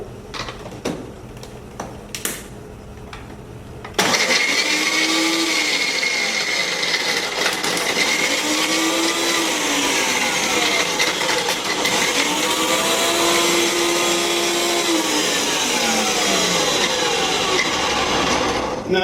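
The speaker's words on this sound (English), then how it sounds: "And again, I'm going to blend it up." A Ninja blender starts up abruptly and crushes ice with a loud, steady whirring roar. Its pitch sweeps up and down as the cubes break apart, and a few quieter knocks come before the motor kicks in.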